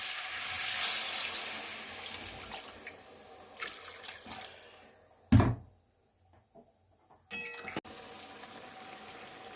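Water goes into a pan of tangra fish curry cooked with winter vegetables, heard as close, intermittent splashing bursts with one loud gush partway through and quiet gaps between.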